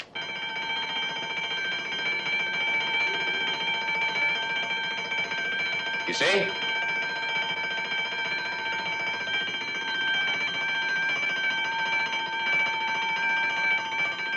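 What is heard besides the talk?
burglar alarm system triggered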